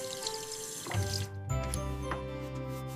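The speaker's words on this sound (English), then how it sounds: "I wash my hands." Hands being washed under a running tap, a close, continuous water flow with splashing and shifting tone as the hands move through the stream, heard alone without talk.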